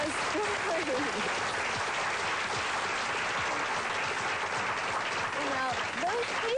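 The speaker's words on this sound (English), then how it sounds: "I think the clapping's going on for them." Sustained audience clapping, a dense even patter of many hands filling the room, with faint voices and a few whoops rising over it.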